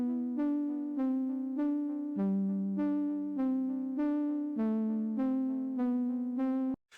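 Synthesized MIDI melody played back in Ableton, a steady sequence of about a dozen evenly spaced tonal notes in a simple tune, clean and alone, cut off abruptly at the end.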